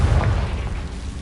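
A Confringo fire spell detonates in Hogwarts Legacy, a deep, rumbling game explosion that stays loud and heavy for its whole short length, with a booming low end.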